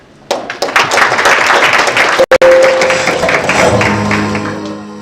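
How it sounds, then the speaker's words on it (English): Applause breaks out for the chief guest at the launch of ORPP services on eCitizen, with dense clapping from a crowd that swells quickly, holds steady through a brief dropout and then slowly fades. "A big round of applause to Monasius"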